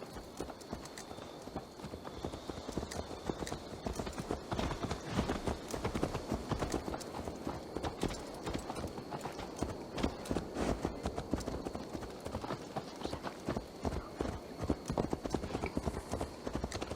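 Horse hooves clip-clop in the video game Assassin's Creed Valhalla, a brisk, steady run of hoofbeats at moderate distance, continuous throughout with a faint whinny and light background ambience.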